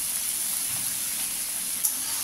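Salted cut potatoes, carrots and cauliflower sizzle in a hot pan with a steady, soft frying hiss and one brief clatter of stirring, moderately quiet and free of talk.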